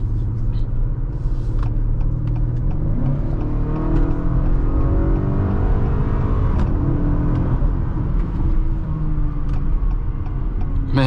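A 2021 Acura RDX engine accelerating on the road, heard from inside the cabin as a loud, steady rumble with rising revs and whir, continuous throughout with no talking.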